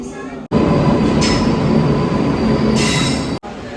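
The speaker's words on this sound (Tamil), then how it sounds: "இதுதான் வந்து பார்த்தீங்கன்னா நம்ம ட்ரெயின் வரப்போகுது." A train rolls in with a loud, continuous rumble, and bursts of high wheel squeal rise over the noise of the cars.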